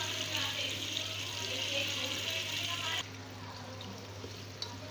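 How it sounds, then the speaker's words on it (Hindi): Water poured from a glass, about half a glassful, into a steaming lentil curry in a pot, a soft continuous splashing trickle for about three seconds that then stops, leaving a quiet background hum. "अब हम इसमें तकरीबन आधा गिलास पानी डाल देंगे।"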